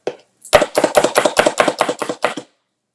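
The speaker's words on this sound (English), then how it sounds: "So you see what's happening as I'm chopping." Vegetables for cheesesteak stuffed peppers are diced with a knife on a cutting board, giving about ten loud, quick, evenly spaced chops close by.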